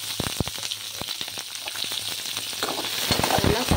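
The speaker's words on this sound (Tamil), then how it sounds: "இதில் கருவேப்பிலை, வெங்காயத்தை சேர்த்துக்குவோம். இதுவும் நல்லா வதக்கி எடுத்துருவோம்." Onions and curry leaves fry with chana dal in a pan, giving a close, steady sizzle broken by sharp crackles and the scrape of stirring.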